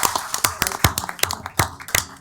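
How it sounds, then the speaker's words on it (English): Scattered handclaps at a city council meeting, a sparse, uneven run of sharp claps from a few people over about two seconds rather than full applause. "Can we get a roaring round of applause for that?"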